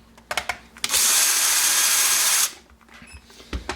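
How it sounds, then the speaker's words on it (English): Power screwdriver backing Phillips screws out of an intermittent switch: a single loud whirring burst of about a second and a half, close up, framed by small clicks and handling taps. "I'm going to just go and take these Phillips screws out"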